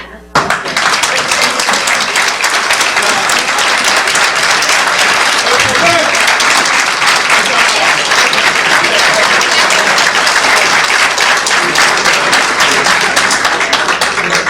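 Sustained applause from a seated audience at a public event on the sale of seized drug-trafficking assets, a dense, steady wash of clapping at close range that holds loudly for nearly the whole stretch.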